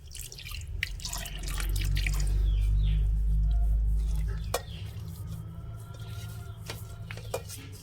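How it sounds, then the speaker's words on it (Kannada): Water poured into a bowl of semolina and flattened rice, a full gurgling rush for a few seconds, then quieter drips and trickles close by. "ಈಗ ಇದು ಮುಳುಗೋಷ್ಟಷ್ಟೇ ನೀರು ಹಾಕ್ಕೊಳೋಣ ಜಾಸ್ತಿ ಬೇಡ"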